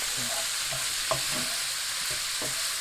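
Leek and onions softening in a pot for turkey and butter bean soup, giving a steady hiss of oil with a few soft stirring knocks and scrapes, close and moderately quiet.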